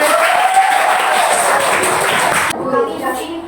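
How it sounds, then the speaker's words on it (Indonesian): Students in a classroom clap after a group presentation, a brief round of applause with talking underneath that cuts off sharply partway through, leaving quieter room sound and voices. "Oke, silakan tepuk tangan."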